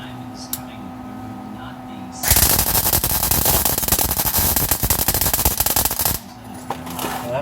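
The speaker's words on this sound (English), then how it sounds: "that welder sounds as crappy as it could get" An arc welder crackles while welding a U joint on a K5 Blazer, producing a loud, harsh, sputtering burst of noise that runs for about four seconds, then cuts off to quieter background.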